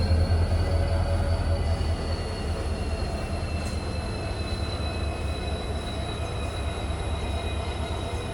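A released locomotive moves off on the Nilambur Road to Shoranur railway line with a loud continuous rumble and faint wheel squeal, steady and close throughout, no voices.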